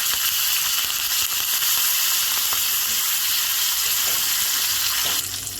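Mustard seeds and cumin crackle and sizzle in hot oil for a tempering over raw mango dal, with a dense, steady hiss close by and small pops throughout.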